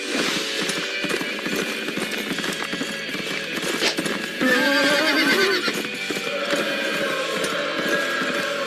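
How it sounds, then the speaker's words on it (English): Horse whinnying loudly several times amid a busy scene, its neighs rising over a steady patter of clip-clopping hooves throughout. "I think he's riding a wild horse."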